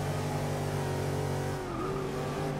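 A 1990 Chevrolet Camaro IROC-Z race car in Forza Motorsport 6 on the Spa-Francorchamps straight, its engine droning loud and steady at high revs, the pitch shifting near the end as the car changes gear.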